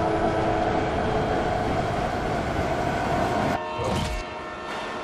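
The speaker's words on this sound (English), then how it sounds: "There's a train" A train in Fortnite during a concert event rolls by with a loud, steady rumble and sustained horn-like tones, cutting off abruptly into a brief, quieter clatter near the end, with no talk.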